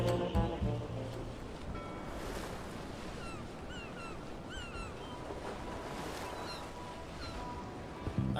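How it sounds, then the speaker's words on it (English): Ocean waves washing ashore in the adventure game Return to Monkey Island: a steady, soft broadband surf wash with faint wind, alone without talk, under a light game music bed with small chirping accents. "What's that sound? Oh, it's just the waves."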